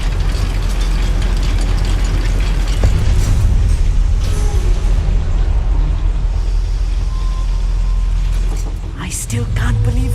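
A simple goblin mine lift mechanism in the Hogwarts Legacy video game grinds and rumbles steadily up close, with ratcheting, gear-like mechanical texture throughout and a brief shift near the end.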